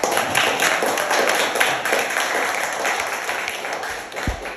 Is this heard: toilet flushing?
no